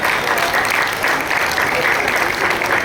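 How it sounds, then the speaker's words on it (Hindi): A crowd at a Maharaja Agrasen Jayanti gathering in Delhi claps steadily throughout, a thick and even roar of applause close to the microphone. "आपकी तालियां मुझे क्यों बहुत कमजोर लगती है पता नहीं।"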